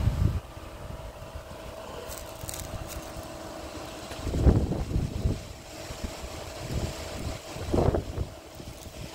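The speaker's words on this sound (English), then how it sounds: "Not too sure about that wind," Gusty wind blows across an outdoor microphone near grazing animals, a steady rumbling buffet that swells into louder gusts around the middle and again near the end, with no talk.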